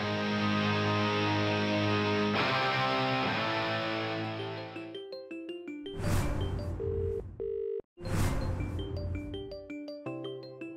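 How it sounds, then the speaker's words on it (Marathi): A telephone rings indoors with electronic tones: a sustained ringing tone first, then a run of short, clipped beeps, a brief gap, and more beeping, with no voices over it. "ते यामिनी मॅमचा फोन. उचल ना, उचल ना, तू उचल ना."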